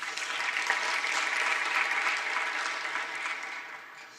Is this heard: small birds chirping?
no